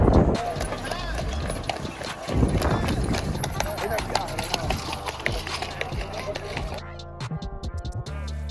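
Horse hooves clip-clop near the pyramids in Egypt, where camels and horses wait for tourists off the buses, a busy rhythmic clatter mixed with crowd voices and talk before it drops away near the end.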